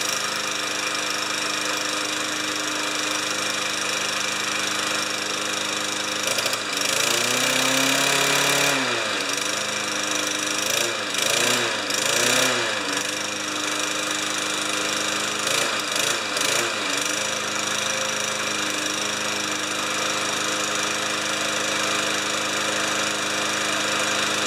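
A Yard Works lawn mower engine, revived after sitting unused for a long time, runs steadily in a loud, continuous drone with a rough mechanical rattle, joined midway by irregular clattering bursts that come and go.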